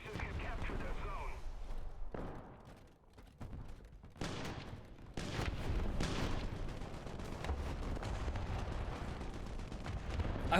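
Gunfire in the War Thunder mobile infantry mode, with sharp gunshots and heavy bursts cracking through a loud battlefield din, some close and some distant, while a voice talks at times.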